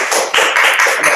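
Classroom applause during a Japanese language lesson, a steady patter of many hands clapping at close range for about a second, loud and continuous with no talk over it.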